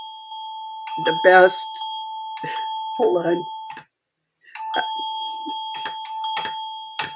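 A cell phone rings indoors with a steady two-tone electronic chime that keeps going under someone talking, briefly dropping out before resuming.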